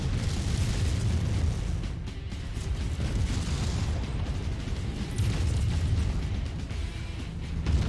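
A mech is torn apart in Mechwarrior 5: Mercenaries, with dense, rumbling explosive booms and crackling bursts rolling continuously at moderate loudness and no voices over it.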